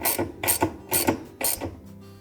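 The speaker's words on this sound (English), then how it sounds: "secure it tight with the ratchet wrench" A ratchet wrench tightens the agitator bolt on a top-load washer with a dual-stage agitator: four quick, close ratcheting bursts in a steady rhythm, each a rapid run of clicks, with no voices.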